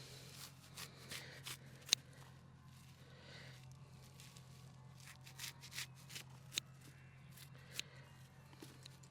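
Scissors snip grass into small sections for a grass sugar test, a run of quiet, crisp cuts with soft crackling and rustling at close range, set against a steady low hum.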